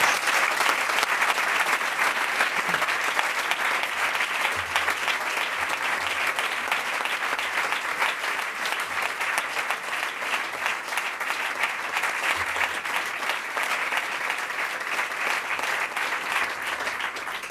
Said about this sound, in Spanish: Para ellos, para sus familias, para sus compañeros, pido un aplauso para todos.